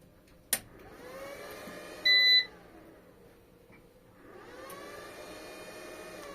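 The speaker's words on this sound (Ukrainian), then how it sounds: "ось запустились вентилятори" The cooling fans of a MUST inverter spin up when the unit is switched on. A click comes first, then a short electronic beep, then a rising whir that fades and swells again, all heard up close.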